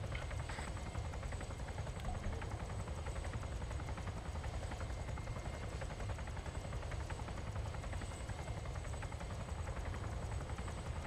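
A helicopter flies in a video game with a continuous, even rotor thrum and engine drone throughout, steady in level and fairly quiet, and no voices.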